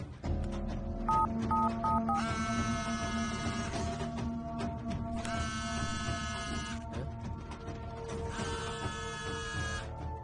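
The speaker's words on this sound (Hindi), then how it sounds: "आप मेरे नंबर पर फोन करो।" Electronic keypad tones beep in quick succession as a phone number is dialed, with faint mechanical whirring and warbling ring tones repeating underneath.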